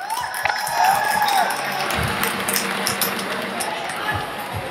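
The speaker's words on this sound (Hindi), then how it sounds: "भाई ताली बजाओ" An audience at a dance competition cheers and claps in a loud, dense burst of crowd noise, with voices shouting over it throughout.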